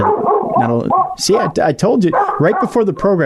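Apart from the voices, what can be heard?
dog barking, lab hound named Momo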